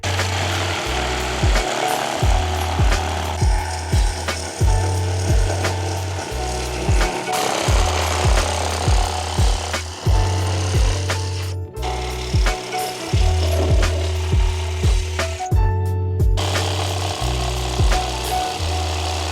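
A small hand saw cuts through a car bumper splitter in steady back-and-forth strokes, a close rasping rhythm that keeps going with short pauses between runs.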